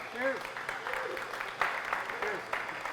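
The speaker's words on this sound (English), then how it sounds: "Give him a round of applause." Audience applause at a craft-beer industry talk in San Francisco, a steady patter of clapping from a room of listeners, moderately distant, with voices and a few whoops over it.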